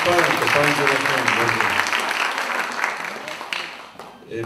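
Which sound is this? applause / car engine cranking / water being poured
applause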